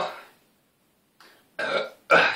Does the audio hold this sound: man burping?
yes